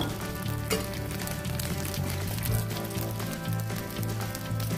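Oil sizzles and crackles steadily in a frying pan while Korean jeon fry, a dense, even hiss that carries on with no break and no talking.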